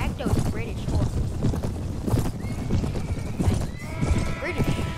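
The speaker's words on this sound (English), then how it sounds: "Boy, I like those British horses." British cavalry horses in a video game clatter with rapid clip-clop hooves and loud whinnies, overlapping a player's excited talking.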